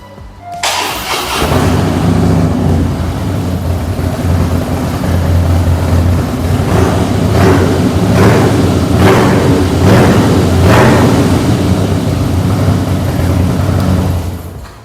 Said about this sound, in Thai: เดี๋ยวเราลองมาพามาฟังเสียงเครื่องกันดูก่อนนะครับ